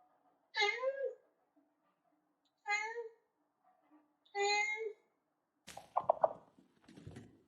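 A ranch cat meows three times with clear, drawn-out calls separated by pauses, fairly close and quiet in an otherwise still setting, followed by some brief rustling noise at the end.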